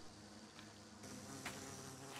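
Steady insect-like buzzing of the queen bee in the Minecraft Bumblezone mod, a continuous drone that grows noticeably louder halfway through, with no talking.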